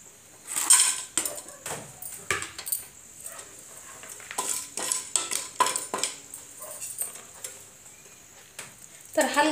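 Whole spices dry-roasting in a pan for masala rice, scraped and stirred with a metal spoon in irregular clinks and scrapes at close range, with brief pauses between strokes.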